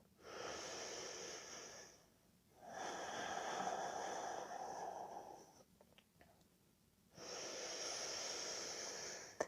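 Slow, rhythmic breathing during a yoga pose, with long airy inhales and exhales alternating with brief pauses, close and soft, no talking.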